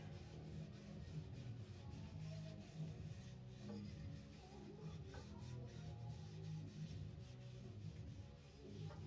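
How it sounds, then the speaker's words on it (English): Finish being rubbed by hand into the wood and end grain of a cigar box guitar, a soft continuous rubbing and scraping texture at moderate, steady level with a few faint clicks, no talking. "So really just rub that in there really nice, especially the end grain."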